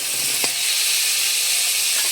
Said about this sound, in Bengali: এপাশের কড়াইতে মশলাটা ভাজা হয়ে গেছে, দিয়ে দিচ্ছি আলু আর ডেমো শাক, নেড়ে চেড়ে নিচ্ছি